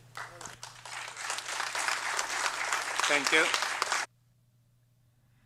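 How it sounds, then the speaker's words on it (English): A crowd applauds steadily for about four seconds before the clapping cuts off abruptly; a voice speaks briefly near the end. "You can see him clapping"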